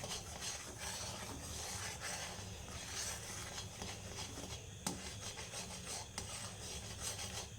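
Sandesh mixture is stirred in a pan, a soft continuous scraping and rubbing close by that keeps up steadily throughout with a few small knocks.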